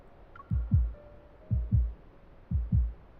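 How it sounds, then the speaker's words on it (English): An amplified heartbeat thumps in three evenly spaced double beats, each a deep, muffled lub-dub pulse, loud and close over a faint low hum. "The sound of my heartbeat is amplified in my ears."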